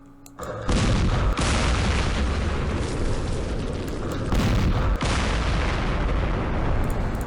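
A recoilless rifle firing in the Campaign Series Middle East war game, a sudden loud boom followed by a sustained rumbling blast, with further heavy detonations and a long roaring tail.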